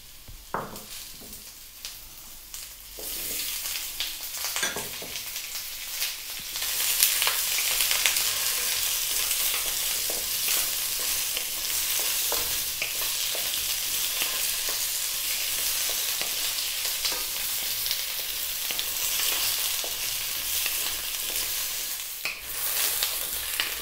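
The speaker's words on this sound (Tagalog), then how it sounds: "yung ating pong carrots at patatas, ipiprito po natin siya" Carrots and potatoes fry in hot cooking oil with a steady, loud hiss and sizzle, broken now and then by clatter from stirring, continuing without letup.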